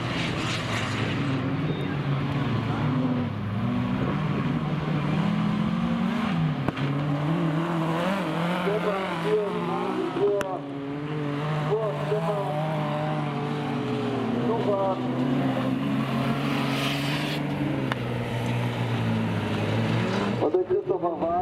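Historic autocross buggies race on a dirt track at a hobby event in Werlte, Germany, making a loud, sustained engine roar. Several engines rise and fall in pitch together beneath a commentator talking throughout.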